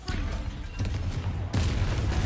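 A spell cast in the video game Hogwarts Legacy produces a loud burst of crackling, booming combat effects, with a second sharp blast arriving about halfway through and a dense rumbling layer underneath.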